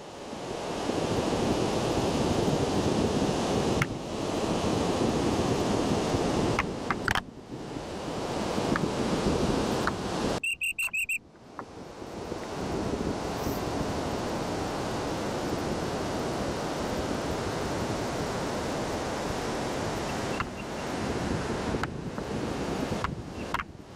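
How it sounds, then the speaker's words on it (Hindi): A waterfall beside a steep mountain trail to Hemkund Sahib pours out a loud, steady rushing roar that fills the scene, broken by a brief dip midway, with no talking. "साइड में आ रहा है झरना"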